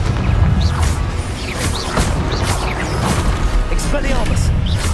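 Confringo blast spell in Hogwarts Legacy: a loud, close series of booming, crashing explosions and impacts layered with game effects, with a voice talking over the commotion.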